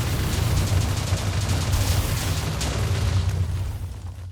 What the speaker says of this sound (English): Explosion at power 5.